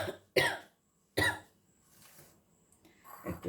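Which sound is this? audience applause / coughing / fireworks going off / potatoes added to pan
coughing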